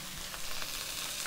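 A steady, soft sizzle of broccoli frying in a hot pan, faint and continuous.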